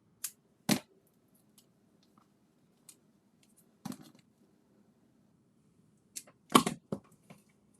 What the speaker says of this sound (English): And then actually just cut it apart.